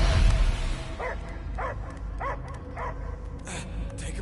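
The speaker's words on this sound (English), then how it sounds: "I hear only barking." Dog barking in the video game Guardians of the Galaxy, a series of four or five evenly spaced barks over a steady rumbling game background, fairly close and moderately loud.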